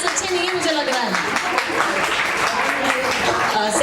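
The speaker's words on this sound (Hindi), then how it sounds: "प्लीज तालियां ना बहुत ढीली है भैया" An audience at a charity evening event applauds steadily for a few seconds, a continuous wash of clapping with voices talking over it.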